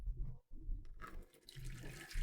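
Warm water runs and splashes steadily from a tap, briefly cutting off before resuming with a brighter, hissing flow.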